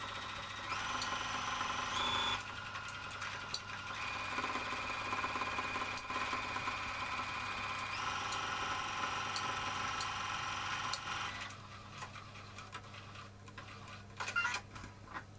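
A sewing machine stitches the side seam of a jumpsuit in one long, moderately quiet run with a steady mechanical hum and faint ticking, easing off near the end.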